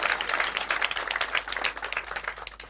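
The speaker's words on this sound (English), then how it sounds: "you can clap for Professor Ferris" An audience at a university breakfast gathering claps for a professor, a moderately quiet, scattered patter of hands lasting a few seconds.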